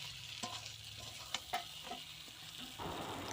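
Chicken kosha sizzles and fries in a pan while being stirred, with a steady frying hiss and a few sharp scraping clicks of the spatula, close by and with no talk.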